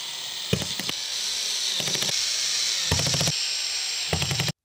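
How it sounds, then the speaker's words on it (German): Four bursts of a cordless screwdriver at torque setting 5 whirring and ratcheting, driving screws while fitting IKEA Pax Komplement drawers, each under a second, with pauses between them against a steady background hiss. "einen Akkuschrauber, den ich auf die Drehmomentstufe 5 stelle"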